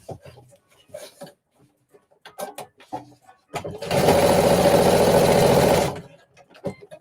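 A sewing machine edge-stitches a bust dart on a flared dress, one loud continuous two-second run of rapid stitching near the mic, with soft handling clicks and rustling before and after.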